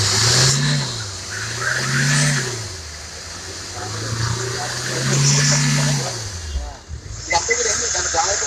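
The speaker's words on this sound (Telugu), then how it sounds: "ఒకసారి ఎక్సిలేటర్ ఇవ్వండి." An RTC bus engine at a depot, run for a smoke and emission check, revs loud and close, rising and falling in about three long surges before settling, with people talking over it.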